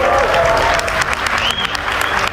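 Audience applause in a French-language lecture hall, a renewed and denser round of clapping after the first was judged too weak, steady and loud throughout with crowd murmur and a voice over it.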